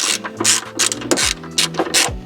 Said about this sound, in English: take that adjuster screw back out